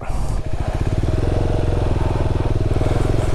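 A KTM 390 Adventure motorcycle pushes through deep water, its single-cylinder engine chugging in a close, steady rapid pulse with a low throaty drone throughout.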